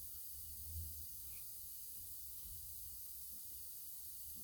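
Shot blasting a rusty vise assembly from an old lathe gives a continuous, faint hiss of abrasive spray, steady throughout with a brief thump early on.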